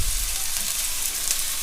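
Chicken tinola boils in a pot of water, a continuous close hiss and bubbling sizzle at a steady level, with a few faint clinks toward the end.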